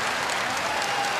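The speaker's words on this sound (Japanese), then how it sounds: "場内大歓声です" Arena crowd at a pro wrestling match roaring and applauding, a dense, loud, unbroken surge of crowd noise over a short moment.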